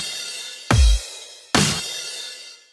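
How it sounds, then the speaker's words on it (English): Two snare hits from an Ableton drum rack, each a sharp crack with a heavy low thump, followed by a long reverb tail that fades slowly; the second hit rings out longer, with no talking. "And then you can send the snare to this reverb."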